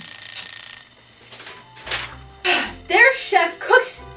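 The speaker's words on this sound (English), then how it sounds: "the kitchen timer is going off" A kitchen timer rings with a bright, steady electronic tone for about a second, loud and close, before it stops and a person starts talking.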